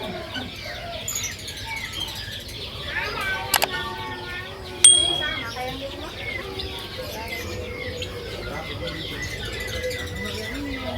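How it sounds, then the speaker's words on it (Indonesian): Chirps and calls from caged zebra doves and other birds at a bird market in Makassar, a busy mix of tweets with a couple of sharp clicks and clanks, crowd voices talking underneath. "Ini perkutut teman-teman."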